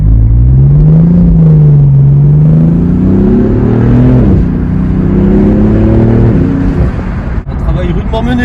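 BMW M4 F82 fitted with an Akrapovic exhaust accelerates hard nearby, its engine note climbing through a strong rising drone with a shift around the midpoint, loud and continuous with a voice briefly audible.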